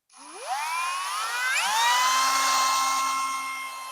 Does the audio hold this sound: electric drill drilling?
yes